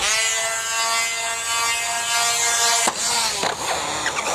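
A remote control car at full throttle gives a loud, steady high-pitched whine with rising motor harmonics, then a sharp clatter and brief rattles near the end.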